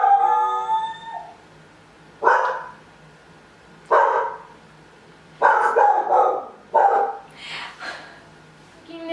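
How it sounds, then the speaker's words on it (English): A puppy barks and howls in several separate bursts, high and drawn-out, with quiet pauses between each outburst; fairly close and loud. "That's my puppy."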